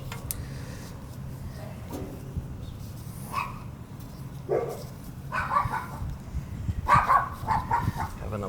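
Dogs bark in short, scattered yips and woofs near an HVAC condenser during a fan motor change, with a steady low hum beneath and the barking growing busier toward the end.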